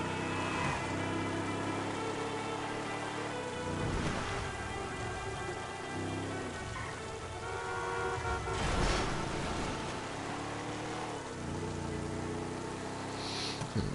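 Vehicle engine noise in heavy rain on a city road, with a rising revving pass and a horn toot amid steady rain hiss and traffic drone, no voices.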